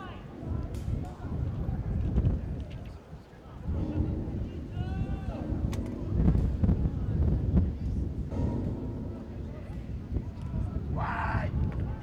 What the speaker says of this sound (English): Ball is rolling away. That's how windy it is.